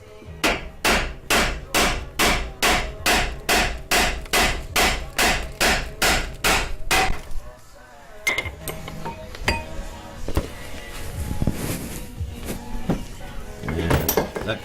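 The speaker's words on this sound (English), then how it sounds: "the heavy hammer." A heavy hammer pounds a long steel drift set beside a ball joint on a Subaru Outback front suspension, about eighteen sharp metallic blows in a steady rapid rhythm, followed by quieter clinks, shuffling and a few brief words.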